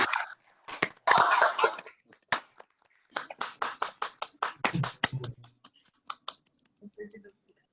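Scattered clapping from participants at an online platform launch event, heard through unmuted microphones as uneven bursts of separate claps, some close and crisp, others faint, with gaps of near silence between.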